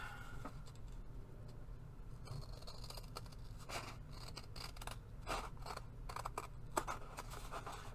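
Scissors cut around a piece of cardboard for a junk journal, giving repeated close snips and scraping crunches in an uneven rhythm.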